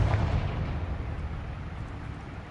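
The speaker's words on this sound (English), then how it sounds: "Confringo." A Confringo fire spell exploding in Hogwarts Legacy on PS5: a deep, rumbling boom that hits at once and then rolls off into a long fading low roar.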